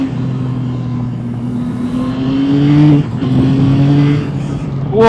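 A Yamaha motorcycle engine, from a test of the XSR900 GP, pulls hard while accelerating, its steady tone rising through the gears with a brief dip at a shift, loud and close amid wind rush.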